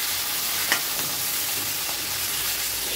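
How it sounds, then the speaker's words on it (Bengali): A fish head fries in a pan, giving a steady close sizzle with one brief clink near the start and no talking. "মাছের মাথাটা বেশ ভালো করেই ভাজা হয়ে গেছে"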